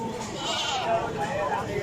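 A goat lets out a drawn-out, wavering bleat close by at a livestock market, with crowd chatter murmuring underneath.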